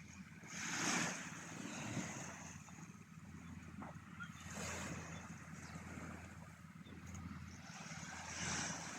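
Faint waves wash in at Morong beach in Bataan, a soft continuous surf with gentle swells rising and falling under light wind noise.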